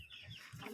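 Chickens of a meat breed cluck softly in short, low, repeated notes, faint and somewhat distant, with no voices over them.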